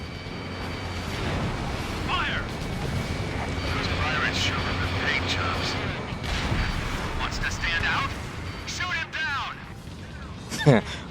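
Air-to-ground missiles strike refinery buildings in a video game, giving a continuous rumble of booming explosions and debris with whistling tones, under a voice talking throughout.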